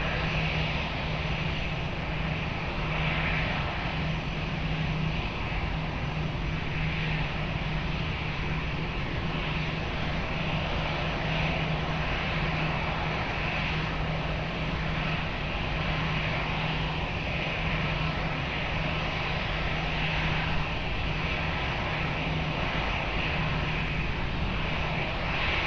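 An airplane on approach to runway 20 at Lisbon Airport drones in a steady, loud engine roar that holds level throughout with no pauses.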